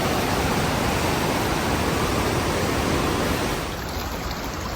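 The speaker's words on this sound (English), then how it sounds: "Bottom of those little falls." Steady, loud rushing roar of a small waterfall in a desert canyon at Havasupai Falls, broadband and continuous, dipping slightly near the end, with no voices.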